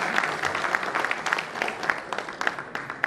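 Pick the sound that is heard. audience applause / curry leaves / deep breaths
audience applause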